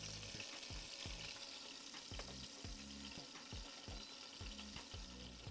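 Beef sears in a hot pot for chili, giving a close, steady sizzle and crackle under a dull rhythmic scraping or stirring pulse, fairly quiet with no talking.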